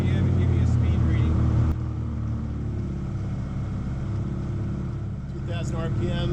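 A motorboat engine throttles back toward 2,000 RPM while a transmission is tested; a steady low drone drops in level after a couple of seconds and continues running under the wind, with no talk during the sound.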